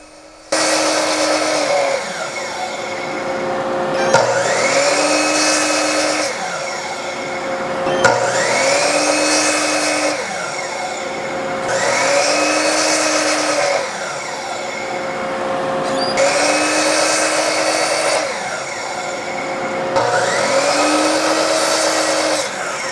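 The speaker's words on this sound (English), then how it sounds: "with my homemade stop block on my miter saw, I'm going to cut the 3 inch vertical stripes of the flags." A miter saw with a homemade stop block cuts fence picket wood into 3-inch stripes, six loud whining cycles in a steady rhythm, each motor spin-up and cut followed by a brief wind-down, close and without speech.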